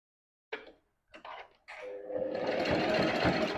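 A sewing machine double-stitching a wig weft, with two short stuttering bursts followed by a steady, continuous whirring run of stitches, close and clear with no talking.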